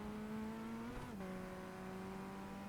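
A Formula Ford race car on the Okayama circuit, its engine droning loudly and steadily from onboard, dipping briefly as the driver lifts off and then pulling back up under power.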